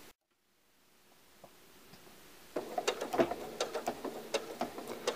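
A sewing machine stitches quilt binding around an inner corner with a very small stitch, starting after a quiet pause as a close run of rapid, uneven ticking clatter, with no talk.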